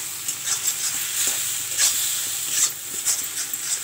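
Masala being stirred and fried in a pan over a low gas flame, with a steady soft sizzle and a few scraping stirs.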